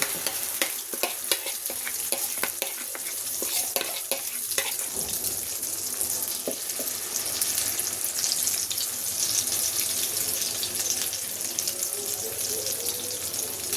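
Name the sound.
egg pizza mixture poured into hot oil, sizzling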